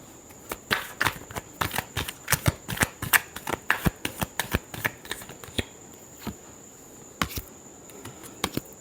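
A deck of tarot cards is shuffled by hand in quick, crisp riffling snaps that come in irregular bursts, close and moderately soft, with no speech.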